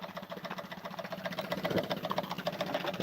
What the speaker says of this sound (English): Trying to revive this old Trammer engine.